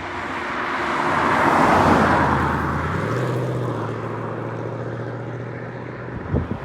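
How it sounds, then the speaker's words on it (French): A Ford Mustang accelerating during street car spotting, its engine note swelling into a broad, loud roar that peaks and then settles into a steadier drone as it passes, with no talking. "On a le droit à une petite accélération, les gars, pour cette petite Ford Mustang"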